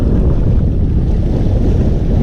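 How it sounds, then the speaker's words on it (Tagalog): Strong wind at a fishing spot buffets the microphone in a loud, steady, low roar that never lets up, alone with no talking. "Ayan, mahangin na, Kabiwas."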